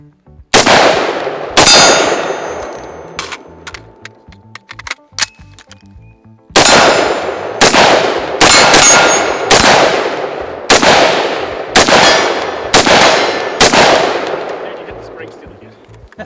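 Gunshots at an outdoor shooting range, loud sharp reports each followed by the ringing clang of bullets striking steel targets, fired in quick bursts with short pauses between strings.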